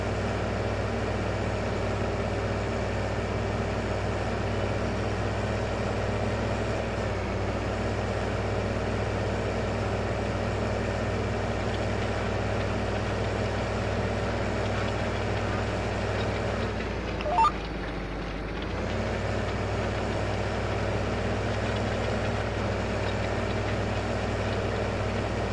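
A tractor engine idles in Farming Simulator 15 as a steady, low droning rumble with a constant hum. About two thirds of the way through it briefly dips and dulls, then settles back into the same idle.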